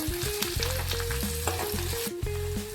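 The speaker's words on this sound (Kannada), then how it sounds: "ಸ್ವಲ್ಪ ಫ್ರೈ ಆಗಬೇಕು ಉಳ್ಳಾಗಡ್ಡಿ" Long-sliced onions fry in a pan with a constant, loud sizzle, cooking for a methi malai curry. A melodic music bed plays continuously underneath.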